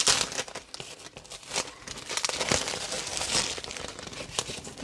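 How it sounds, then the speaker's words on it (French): Crinkling and rustling of a transparent plastic window sheet, a Stampin' Up acetate-like film, handled continuously up close, with brisk irregular crackles and no talking. "c'est du papier finalement plastique, transparent, un peu l'équivalent d'un rhodoïde"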